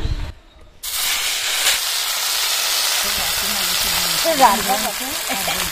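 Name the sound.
bele fish frying in mustard oil in a wok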